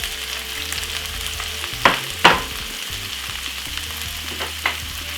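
Corned beef with cabbage and vegetables sizzling steadily in a pan, with a couple of sharp scraping stirs and a later softer scrape over the continuous frying hiss, no talk.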